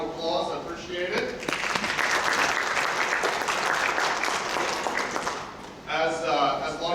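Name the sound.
applause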